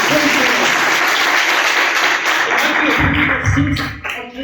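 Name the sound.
congregation applause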